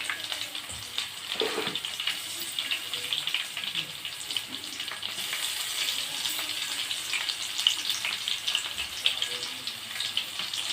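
Fenugreek seeds frying in a pan give a steady close sizzle and hiss throughout, with a few faint clinks and no clear talking.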